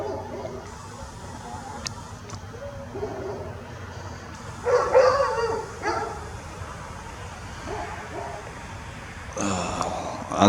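Dogs bark and yip in short bursts at a moderate distance, with quieter stretches between outbursts over a low background hum.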